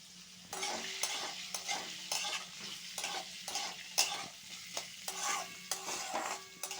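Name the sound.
diced potatoes and carrots frying in a pan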